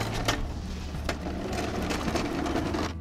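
A lightweight McLane push reel mower rolled forward and back, giving a steady close whirring, clicking rattle of the spinning reel blades that runs unbroken for about three seconds.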